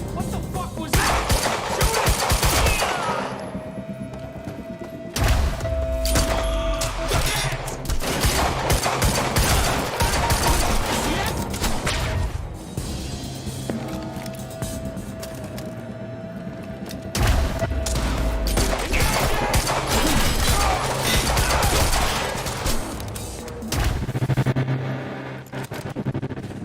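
Shootout in the video game Quantum Break, with dense bursts of automatic gunfire, heavy booms and thuds arriving in loud waves that rise and fall, with brief lulls between volleys.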